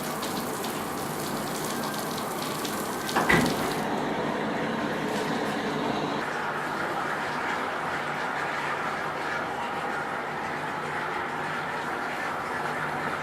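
Water runs steadily from a tap while the pressure is being checked in a house, a continuous broadband gush with one brief louder splash early on.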